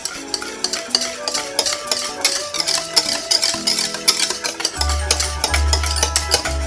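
A spoon stirs melted butter into a thick semolina milk pudding mixture for galaktoboureko, making a continuous wet scraping and sloshing against the pot, close and even, with soft background tones and no speech.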